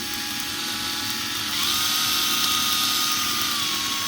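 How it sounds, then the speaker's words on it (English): A power drill with a cleaning attachment whirs steadily while scrubbing the intake ports of a cylinder head, its high whine shifting in pitch partway as load changes, close and continuous with no talk. "and then you just grab your drill"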